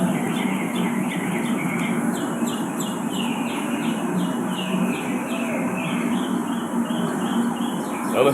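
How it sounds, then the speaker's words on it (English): Small birds chirp in quick repeated phrases against steady outdoor background noise, faint and continuous, with no talking. "You hear birds, right?"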